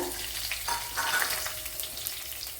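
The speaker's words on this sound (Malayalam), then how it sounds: "ഇനി അതിലേക്ക് ചെറിയൊരു പീസ് ഇഞ്ചിയും ഒരു 6-7 വെളുത്തുള്ളിയും കൂടെ ഇട്ട് കൊടുക്കുക." Fenugreek seeds, ginger and garlic frying in hot oil in a pan for a Kerala-style fish curry: a close, continuous crackling sizzle with light stirring, with no voices.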